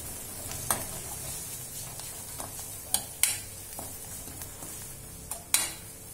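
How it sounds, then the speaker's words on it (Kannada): Fenugreek pickle mixture being stirred in oil with a ladle, a soft low sizzle under a few sharp metallic clinks and scrapes against the pot, close and fairly quiet with no talk. "ಚೆನ್ನಾಗಿ ಎಣ್ಣೆ ಒಳಗೆ ಒಂದು ಐದಾರು ಸಲ ಸೌಟಿಂದ ಇದು ಮಾಡ್ರಿ ಕಲಿಸ್ತಾ ಇರ್ರಿ"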